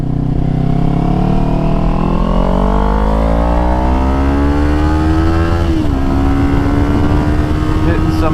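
Kawasaki Ninja 400 motorcycle accelerating hard, engine pitch climbing steadily through a gear with a brief dip at an upshift, then rising again; loud, close onboard sound with wind noise and a rider talking over it.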